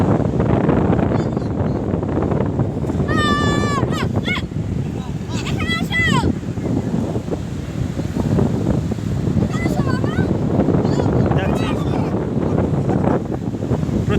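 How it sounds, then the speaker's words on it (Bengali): Big waves breaking on a beach at Bakkhali, with strong wind buffeting the microphone. The roar is steady and loud throughout, and a voice with some high whistling or calls sits over it at moments. "কিন্তু এখানে আমরা প্রচণ্ড ঢেউ দেখছি"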